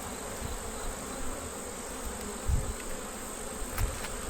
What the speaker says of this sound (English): There's an awful lot of bees here.